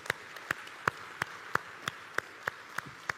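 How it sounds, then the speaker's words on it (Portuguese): Congregation in a church service clapping in slow, evenly spaced single claps, about ten sharp claps over a quiet background, moderately distant. "Você pode aplaudir ao Senhor por isso?"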